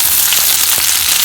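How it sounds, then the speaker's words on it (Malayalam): Drumstick leaves drop into hot oil with tempered mustard seeds, a loud, dense, continuous sizzle and crackle close at hand, with no talk. "ഇനി നമുക്കിതിലേക്ക് കഴുകി വെച്ചിട്ടുള്ള മുരിങ്ങയിലയാണ് ചേർക്കുന്നത്."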